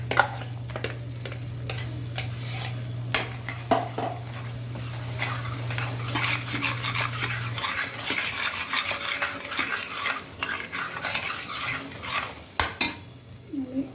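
Masala for paneer curry is stirred in a pan over a low flame, with a continuous scraping and clinking of a spoon against metal, sharp knocks now and then, and a soft sizzle throughout.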